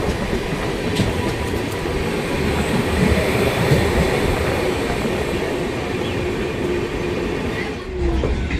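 The Darjeeling Mail train rolls into New Jalpaiguri station, a loud, steady rumble of wheels and carriages heard from on board that carries on without a break and eases slightly near the end.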